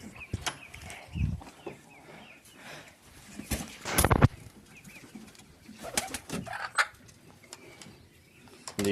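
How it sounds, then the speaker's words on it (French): Pigeons coo softly inside a coop, their low repeated calls coming from several birds, broken by wing flutters, scratching and occasional knocks. "Donc les pigeons."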